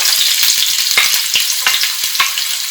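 Garlic and onion fry loudly in hot oil, a close, bright, continuous sizzle with several quick stirring knocks and scrapes throughout.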